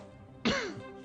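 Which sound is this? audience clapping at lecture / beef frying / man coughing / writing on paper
man coughing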